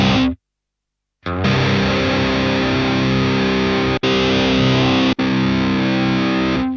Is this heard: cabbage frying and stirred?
no